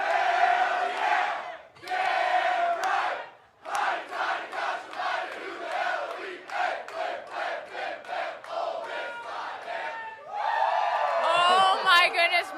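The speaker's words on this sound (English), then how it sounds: "This is the rowdiest crowd." A rowdy college football crowd in Oxford, Mississippi, roars and chants "hotty toddy" in loud, rhythmic bursts, with cheers and whoops swelling near the end.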